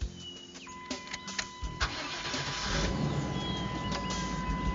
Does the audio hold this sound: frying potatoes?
no